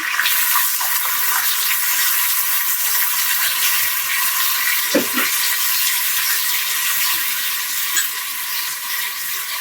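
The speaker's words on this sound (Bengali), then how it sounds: "আমি দিচ্ছি এখানে ফুটানো পানি" Boiled water pours into a pot of beef curry, a loud, continuous hissing rush that holds steady throughout with a brief clink midway.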